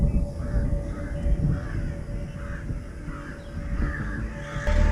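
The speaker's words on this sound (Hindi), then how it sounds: "क्रोस, देखो कौवे की आवाज।" Crows caw repeatedly in a steady run of harsh calls over about five seconds, heard in a movie scene playing at a reaction viewing. The calls sound moderately loud against low background rumble.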